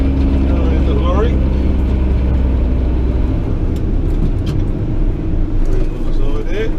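A small lorry drives past outdoors, its engine rumbling loudly up close before easing off, while someone talks over it throughout.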